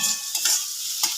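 Chopped onion sizzling in hot oil in a pan for patties, with a steady hiss punctuated by a few soft stirring scrapes, close and clear, no talk.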